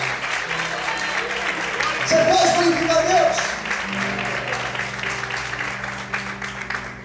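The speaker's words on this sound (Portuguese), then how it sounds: "Você pode aplaudir o Senhor?" Congregation applauding during a Portuguese-language church sermon, a broad wash of clapping heard under the preacher's amplified voice and a sustained musical tone.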